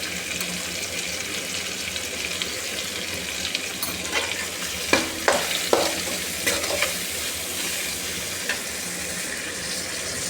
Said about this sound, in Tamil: ஒரே ஒரு சின்ன தக்காளி, நல்லா வதக்கிக்கலாம்.